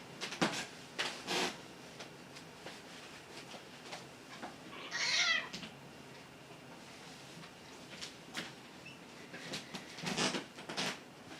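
A pet cat gives a soft, brief meow midway through a quiet room, while scattered faint knocks and rustles sound around it.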